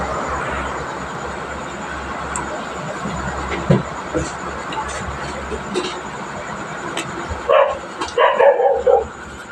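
A dog barks in a few short bursts near the end, nearby and fairly loud, after a stretch of low background rumble and scattered quieter sounds.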